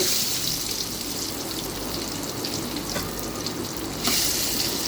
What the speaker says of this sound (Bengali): মাছটা আমি এখন ভালো করে একটু কড়াইতে ভেজে নিব তেলের সাহায্যে